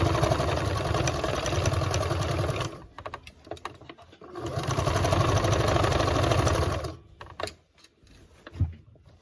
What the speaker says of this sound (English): So now we're sewing. We're doing a 5/8 seam allowance.